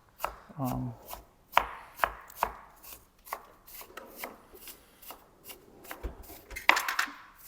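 Knife chopping apples on a cutting board for apple coconut cookies, a series of sharp, close, irregularly spaced thuds and taps that repeat steadily, with no talk.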